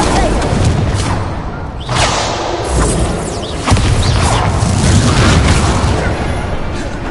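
Repeated fiery spell blasts from the Incendio fire spell in the Hogwarts Legacy video game, loud booming bursts one after another amid dense game noise.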